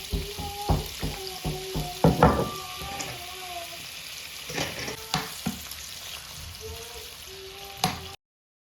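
Prawns sizzling and frying in hot oil for fried rice, with repeated spatula stirs and sharp scraping knocks over a steady background hiss; no talking.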